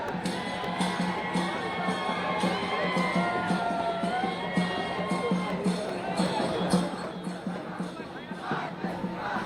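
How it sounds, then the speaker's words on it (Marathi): A large political crowd cheers and shouts around Manoj Jarange Patil's car in a market area, a dense continuous roar of many voices with whoops and yells rising throughout. "तर तिथपर्यंत हे सगळी गर्दी आहे"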